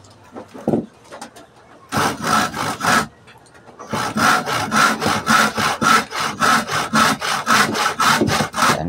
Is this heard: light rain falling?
no